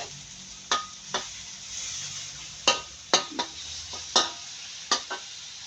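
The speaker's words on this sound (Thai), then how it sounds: "ล้วก็ผัดครับผัดมันให้เข้ากัน" Egg fried rice stir-fried in a pan, with a steady background sizzle broken by about a dozen sharp spatula scrapes and clinks against the metal, some in quick pairs.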